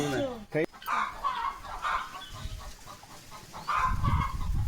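Chickens cluck and a rooster-like call sounds near the start, with fowl chatter continuing amid rustling background noise.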